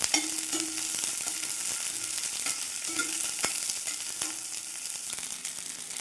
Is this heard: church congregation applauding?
no